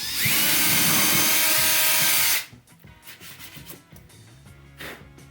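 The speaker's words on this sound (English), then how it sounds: "And drill for the wall anchor." A power drill bores a hole into a wall for a wall anchor while a shelf is hung, one loud continuous grinding whir lasting about two seconds, then faint clicks and handling noises.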